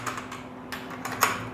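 Keys on a computer keyboard clatter in a quick irregular run of soft close taps as someone types into a trading app, with no talk over them.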